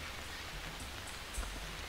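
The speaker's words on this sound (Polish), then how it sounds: "Cholerne deszcze." Steady rain pours in the video game Pirates of the Caribbean New Horizons, an even, continuous hiss of falling water with no voices over it.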